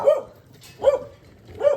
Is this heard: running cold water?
no